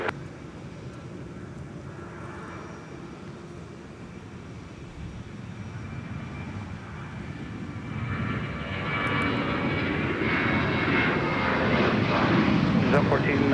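A FedEx heavy jet on final approach to runway 30 left at Minneapolis–St. Paul Airport, a steady engine rumble that swells and grows louder over the last few seconds as the aircraft draws closer.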